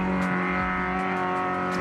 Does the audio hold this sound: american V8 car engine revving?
yes